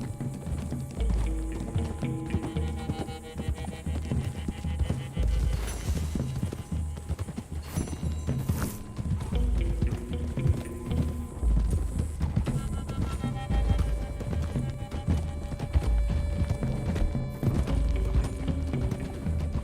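Horses plod along in Red Dead Redemption 2, their hooves clip-clopping steadily under a continuous layer of game music and ambience throughout.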